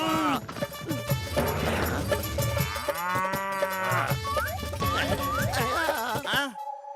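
In a Motu Patlu cartoon, a bull lets out a long, drawn-out bellowing moo amid busy animated sound effects and bouncy tones that continue around it.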